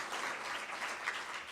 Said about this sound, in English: Let's give ourselves a round of applause for coming here today